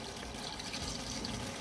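Filtered water from a Brita pours gently and steadily into a comet goldfish aquarium being aquascaped, a soft continuous trickle and gush, faint and unbroken.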